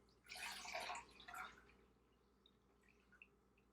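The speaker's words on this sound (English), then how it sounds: "I'm pouring it in my sink right now because I don't want it everywhere" Water is poured from a cup into a sink in a short splashing burst lasting about a second, then a few faint drips trickle afterward.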